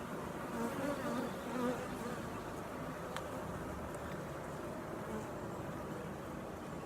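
Honeybees swarm around an opened hive packed with honey, pollen and brood, a dense continuous buzzing that hovers close and quiet, with single insects droning past now and then.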